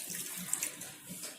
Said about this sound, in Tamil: இப்ப கொஞ்சமா தண்ணி ஆட் பண்ணிக்கிறோம்